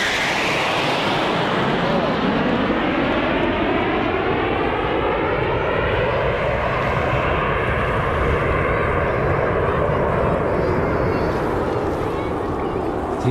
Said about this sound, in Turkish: Jetlerin sesini duyuyorum ama neredeler göremedim